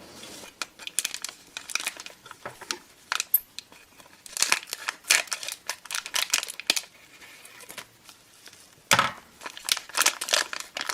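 Scissors snipping and crinkling through a mailed package in a series of close, irregular cuts and rustles, with a few sharper bursts of crumpling packaging material.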